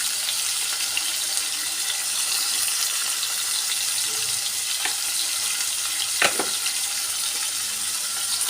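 Spices with chilli powder, turmeric and salt frying for a radish and shrimp curry, giving a dense steady sizzle that runs throughout at close range, with a couple of brief utensil scrapes and no talk.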